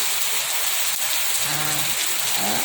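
Heavy December afternoon rain pours in a dense, constant hiss, loud and close, with no voices.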